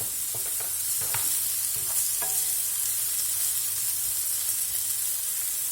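Previously frozen mushrooms with onion and garlic fry in a pan, giving a steady broad sizzle with a few scraping stirs near the start, no voices.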